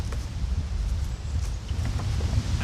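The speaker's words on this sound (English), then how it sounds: "It's terribly windy today" Strong wind rumbles and buffets against the microphone in a continuous, gusting roar, heavy in the low end, with no voices, outdoors beside open beehives.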